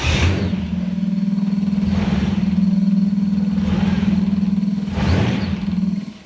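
A supercharged 1UZ V8 fitted in a Hilux ute runs steadily at a lumpy idle, close and loud, with a few light revs swelling the note every second or so.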